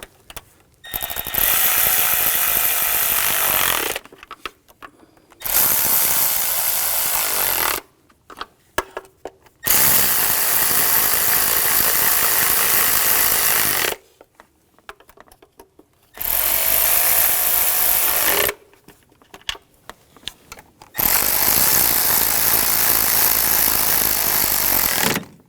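Intake bolts being snugged down on a 3.0L inline-six engine of a 2007–2013 BMW X5, in several long bursts of loud, steady tool whirring separated by brief pauses and small clicks.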